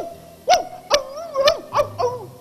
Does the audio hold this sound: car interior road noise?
no